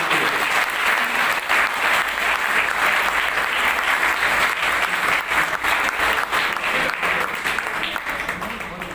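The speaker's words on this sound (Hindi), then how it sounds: "मैं आपसे गुजारिश करूंगा कि आप जोरदार तालियां बजाएं।" Loud, sustained applause from a large crowd at an awards ceremony in New Delhi, dense clapping that carries on steadily and begins to fade toward the end.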